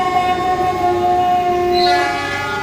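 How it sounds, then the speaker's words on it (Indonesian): A train horn sounds as a train passes near Manggarai, a steady sustained blast with layered tones holding loud and constant throughout, with the rumble of the train underneath and no talking. "dia dengar suara sirine yang berarti bakal ada kereta melintas kan"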